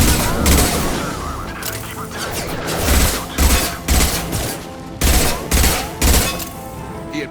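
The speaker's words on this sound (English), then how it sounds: "Hostiles to the right. Taking heavy fire!" Heavy gunfire in the Mass Effect 2 video game, with loud sustained bursts of automatic fire and booming impacts pulsing in a fierce firefight, alongside a voice speaking.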